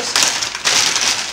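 Spinach leaves are cut for a spinach egusi soup, making two close, crisp crunching bursts, one short and one longer and sustained, with no talking.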